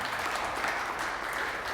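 An audience at a high school letter of intent signing ceremony applauds, a dense, steady wash of clapping throughout.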